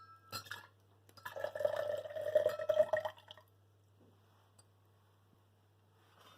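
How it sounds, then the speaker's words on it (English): Water poured into a cup for a lava lamp experiment makes a steady close trickle lasting about two seconds, then stops, leaving near silence with a few faint ticks. "we are going to put a cup of water first inside this cup"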